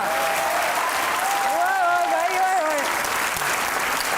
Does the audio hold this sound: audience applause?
yes